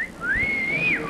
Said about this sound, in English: You think I'm whistling at him